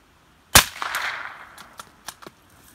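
A rifle fires at targets during a bolt-action sniper fieldcraft drill, giving one sharp, loud shot that rings out and decays outdoors, followed by a few fainter metallic clicks and knocks as the bolt is worked.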